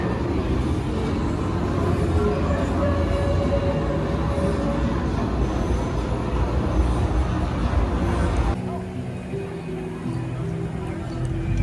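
A train rumbles past nearby at Universal Orlando's Wizarding World with a continuous broad roar that eases off near the end, with background voices faintly mixed in.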